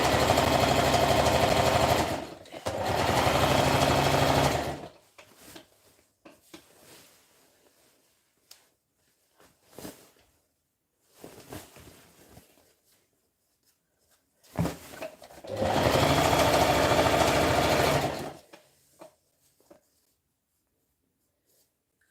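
A sewing machine stitches fabric in two loud, close bursts several seconds apart, with quieter rustling and handling sounds in the gap between them.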